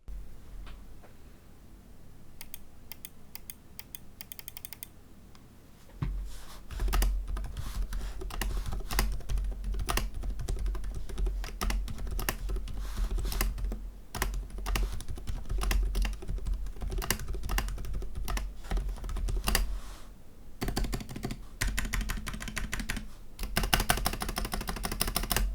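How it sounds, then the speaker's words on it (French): A Ducky One Mini mechanical keyboard with silent switches is typed on continuously for about twenty-five seconds, a dense close run of muted keystrokes with brief pauses. "C'est le Ducky One Mini avec des switches Silent."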